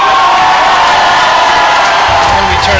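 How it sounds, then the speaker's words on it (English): A loud crowd in a school gym cheers, whoops and applauds for the Lady Lancers volleyball team during pre-match introductions, a dense, sustained roar filling the whole moment. "quite a rousing five, applause for the Lady Lancers"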